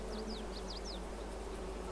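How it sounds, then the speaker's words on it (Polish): Bees buzz near a Polish farm field, a few quick whining passes early on over a steady low machinery hum, with no speech. "Uważaj na te pszczoły."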